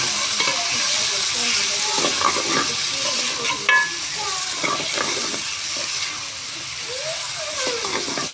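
Chopped tomato, onion and green chilli are mixed into potatoes frying in a pan, producing a continuous close sizzle with scraping and stirring strokes throughout.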